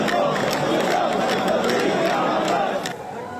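A large crowd chanting "God is great" in the West Bank as a Red Cross bus brings released prisoners home: a dense, loud mass of voices with rhythmic shouts that fades slightly at the end.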